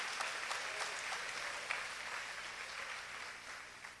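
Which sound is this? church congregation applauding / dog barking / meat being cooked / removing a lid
church congregation applauding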